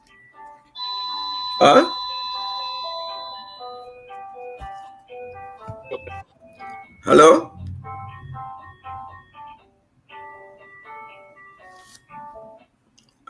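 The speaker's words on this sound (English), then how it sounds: "I'm just getting a ringing noise on your end." A phone or bell rings in the distance on the far end of a call, with chiming electronic tones that repeat across the stretch, and two loud bursts break in while a person briefly speaks.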